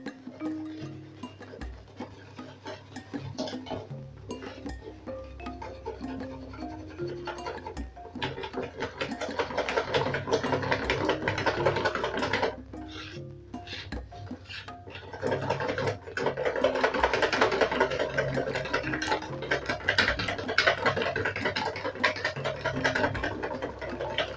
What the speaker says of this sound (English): Then I'm going to mix this till everything is well combined and we have a very smooth consistency.